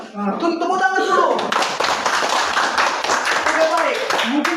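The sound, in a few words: class clapping hands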